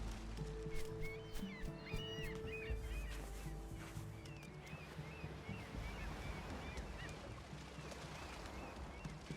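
Sea waves washing onto a beach in the video game Unravel, a steady rolling surf with wind noise and distant bird cries, continuous and moderately loud throughout.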